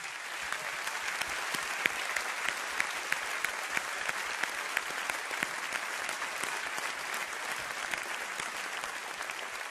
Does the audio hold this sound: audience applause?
yes